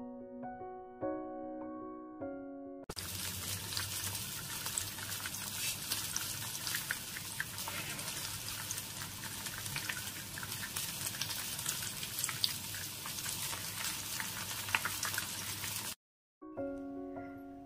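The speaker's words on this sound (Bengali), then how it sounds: "সমস্ত চিকেনের টুকরোগুলো একইভাবে আমি ভেজে নিচ্ছি।" Coated boneless chicken fingers frying in refined oil over medium heat, a dense steady sizzle and crackle that starts abruptly after a few seconds of soft music, holds for about thirteen seconds, then cuts off.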